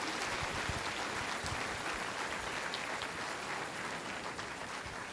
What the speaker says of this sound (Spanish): ¿Cuántos pueden darle un fuerte aplauso a Dios en esta mañana?